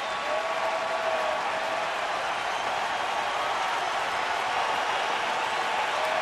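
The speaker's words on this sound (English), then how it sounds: "Crowd coming to their feet trying to help out Giovanni Gallardo" Dense, steady roar of a baseball stadium crowd applauding and cheering at Milwaukee against Chicago, continuous and loud throughout with no break.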